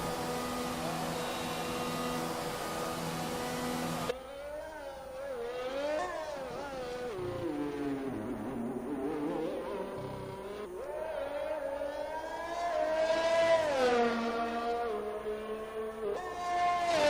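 A McLaren race car engine in a racing video game, revving and rising in pitch as it pulls out of the pits and climbs through the gears, moderately loud and steady.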